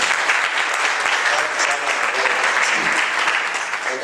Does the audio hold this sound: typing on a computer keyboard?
no